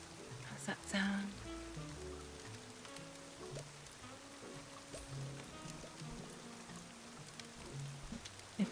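Soft rain sound effect patters steadily on a surface throughout, a gentle continuous hiss behind faint background music tones, with a louder burst near the start.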